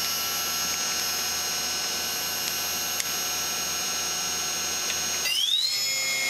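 A Makino S56 CNC vertical machining center hums steadily with a high spindle whine, then near the end the pitch sweeps upward as the spindle spins up toward 12,000 RPM.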